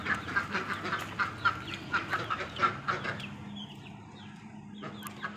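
Ducks quack in a steady, rhythmic run of loud, close calls on a farm holding chicks, ducks and turkeys. The calls stop after about three seconds and leave quieter background chatter.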